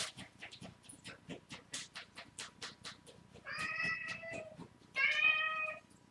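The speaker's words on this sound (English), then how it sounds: "My cat had to talk to me a minute." A house cat meows twice, drawn-out and insistent, following a run of rapid rhythmic panting or sniffing noises, close and clear with no speech.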